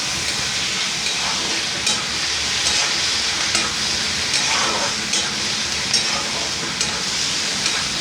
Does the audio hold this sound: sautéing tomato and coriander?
yes